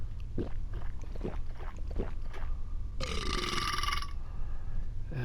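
A character belches after drinking a beer in Metro Sim Hustle, a single long gurgling burp lasting about a second over background game noise.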